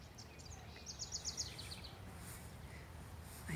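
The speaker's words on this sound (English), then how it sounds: "I hear my wren, and he's being very evasive and hard to capture." A house wren sings outdoors in a backyard garden, a faint, distant, bubbly trill of quick chirps that rises briefly and fades against a soft background hiss.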